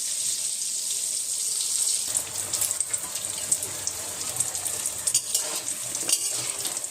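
Battered lote (Bombay duck) fish pieces fry in hot oil until golden brown with a steady bright sizzle, broken by scattered crackles and soft clattering stirs, and no one talks.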